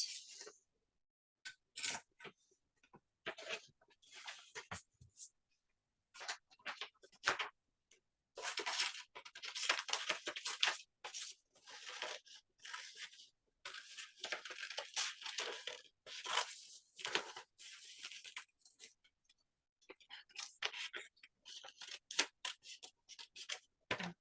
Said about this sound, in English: Okay, now I have to cut this out.